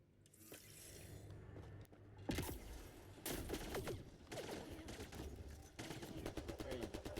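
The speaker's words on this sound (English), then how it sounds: "you guys wanna keep shooting at me?" Enemy gunfire from the video game Mass Effect Andromeda, with rapid bursts and volleys of shots crackling one after another, fairly close, mixed with clicks and mechanical impacts.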